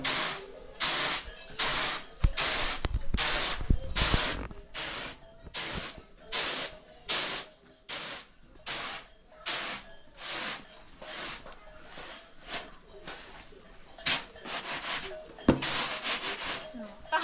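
Rhythmic rushing swishes of rice grain being tossed and winnowed, repeating roughly every half second, with occasional voices in the background.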